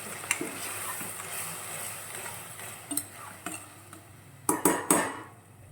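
Onions and ground masala stirred in a metal cooking pan for vegetable kurma, with scattered soft scrapes and a few sharper clinks of a spoon against the pan, growing louder near the end.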